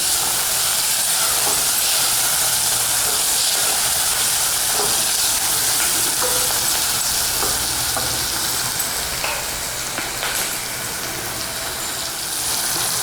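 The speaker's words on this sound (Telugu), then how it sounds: "ఈ వెల్లుల్లి పేస్ట్ వేగింది" Ginger garlic paste frying in hot oil, a steady loud sizzle and hiss with faint stirring scrapes, continuous throughout with no voices.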